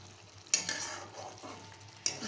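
Egg curry sautéed and stirred in a pan: a soft continuous sizzle with two sharp scrape-clatters of the spatula at the start and end, close, no voices.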